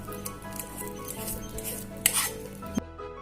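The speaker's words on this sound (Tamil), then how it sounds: "நல்லா மிக்ஸ் பண்ணி விட்டுறலாம்." Wheat paniyaram batter with peeled fruit is stirred in a mixing bowl, making soft, close squishing and scraping sounds with a few light taps against the bowl, ending in a brief clink.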